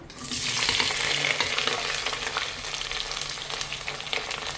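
Onions, curry leaves and slit green chilies frying in hot oil for a spicy goat head curry, a steady close broadband sizzle with light stirring scrapes throughout, no talking.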